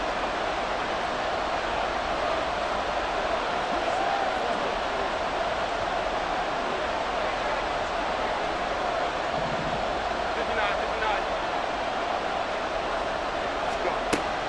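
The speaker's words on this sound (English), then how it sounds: "The Arrowhead crowd in full roar." Stadium crowd at Arrowhead in Madden NFL 24 roars as a constant, loud, dense wash of noise, holding steady from start to finish with no breaks.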